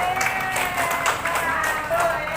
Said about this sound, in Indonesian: Tepuk tangan dong buat saya.